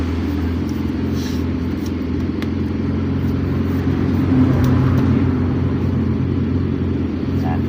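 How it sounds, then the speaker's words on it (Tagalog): Road traffic rumbles by nearby in a continuous low drone of engines, swelling a little louder partway through before settling again. "masyadong maingay idol ng ating video at tabi tayong kalsada"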